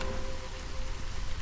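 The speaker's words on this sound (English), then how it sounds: "Oh, that's a drizzle geyser." Steady drizzle-like rain from a drizzle geyser in the video game Against the Storm, a soft continuous hiss of falling drops with no talk over it.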